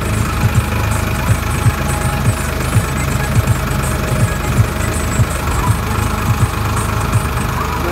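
A tractor engine runs steadily nearby on a farm, a loud low rumble with rhythmic knocking pulses throughout, no voices.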